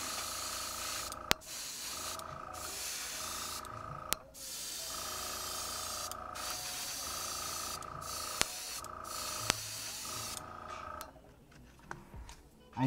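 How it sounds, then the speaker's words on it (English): An airbrush sprays paint onto small action figure guns in repeated hissing bursts with brief pauses between them, broken by sharp clicks and taps of handling, close and fairly loud. "This airbrush is boss."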